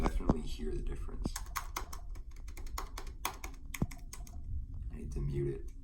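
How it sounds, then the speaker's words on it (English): Rapid, muted tapping on the butterfly keyboard of a 2018 MacBook Pro with a silicone membrane under the keys, a quick uneven run of soft close clicks under low background noise. "when you're typing on it, you can definitely hear the difference"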